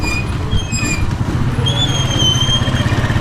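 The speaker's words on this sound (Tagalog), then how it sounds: "Nagloko pa yung motor." A Rusi motorcycle engine that is acting up and slow to warm up runs with a loud, uneven rumble, with thin high squeals riding over it, close by.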